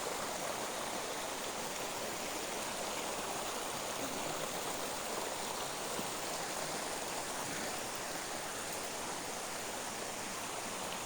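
Creek water rushing steadily over rocks, a dense continuous broadband flow that fills the whole stretch without pause, close and even, with no talk over it.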